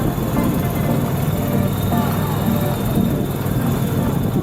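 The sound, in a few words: helicopter landing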